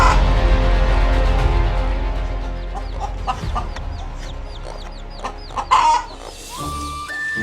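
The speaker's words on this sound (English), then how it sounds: "the sound of rooster is the sound of village life" Rooster crowing and hens clucking in a Vietnamese village, the bird calls repeating clearly over a steady low rumble of background noise, with no talk.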